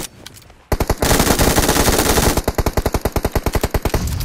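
An MG3 light machine gun fires in a video game, loud and close: a short burst, then a long continuous stream of rapid shots that breaks into distinct evenly spaced rounds near the end.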